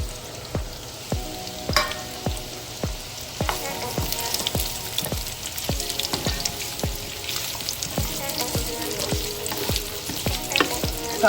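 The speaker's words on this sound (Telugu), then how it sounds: "అదే ప్యాన్లో ఆయిల్ వేసి కొంచెం అల్లాన్ని కూడా వేయించుకోవాలి" Ginger frying in oil in a pan gives a busy crackling sizzle, with a spatula scraping the pan in regular strokes roughly every half second throughout, close and unaccompanied by talk.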